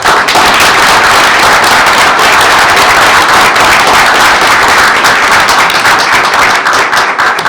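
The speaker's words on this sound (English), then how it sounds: "Let's give them a round of applause." Loud, dense applause fills a board meeting room, many hands clapping close and steady for the whole stretch with no break.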